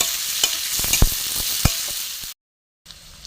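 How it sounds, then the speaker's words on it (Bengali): Garlic, onion and chopped tomato sizzle in oil while a spoon scrapes and knocks against the pan in several sharp strokes. The sound cuts to brief silence near the end, then the frying resumes faintly. "রসুন, পেঁয়াজ, টমেটো ভাজা হচ্ছে"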